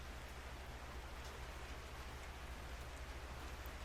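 Heavy, steady rain pours down in a dark, dreary scene from Makoto Wakaido's Case Files, a dense continuous hiss with a low droning hum underneath and no voices.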